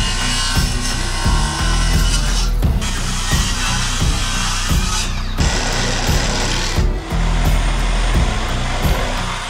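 A power saw cuts through a curved wooden beam during a historic porte cochere renovation, a loud continuous whining buzz close up, with a couple of short dips as the blade works through the wood, no talking.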